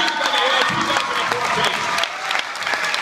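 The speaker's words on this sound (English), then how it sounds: "Let's give West Hill High School a big round of applause for hosting." An audience at a school awards program at West Hill High School breaks into loud, continuous clapping with some crowd noise mixed in, dipping slightly partway through before carrying on.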